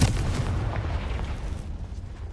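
A Confringo fire spell explodes in Hogwarts Legacy, a loud, heavy blast with a rumbling low-end roar that fades over about two seconds.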